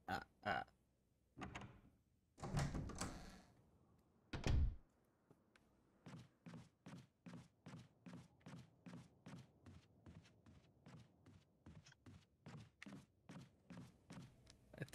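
Doors open and close in the Resident Evil Remake video game: a few heavy thumps and creaking clunks at the start, then a long, regular series of about twenty soft footstep-like thuds, fairly faint and without talk.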